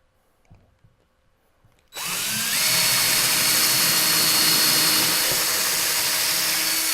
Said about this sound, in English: I'm going to line my drill up, drill myself a nice pre-drill hole